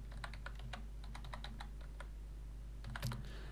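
Quick, close clicks of keys on a computer keyboard as an email username is typed, in uneven bursts over a low steady hum, with a louder clack near the end.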